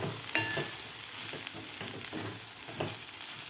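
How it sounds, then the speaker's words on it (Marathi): Potato sautéing in a pan over a high gas flame, with a constant frying hiss and a few light spoon scrapes and taps as it is turned, heard close with no talking. "फुल गॅसवर मी बटाटा व्यवस्थित 2 मिनिट परतून घेतलेला आहे"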